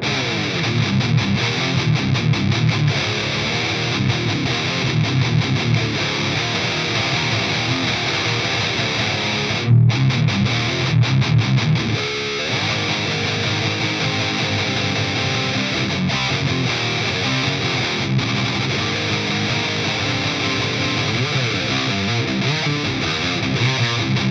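Heavily distorted PRS SC245 electric guitar through an Axe-Fx III Recto One Red high-gain amp model with a T808 overdrive boost, thick saturated chugging riffs played continuously and loud, with a brief pause midway.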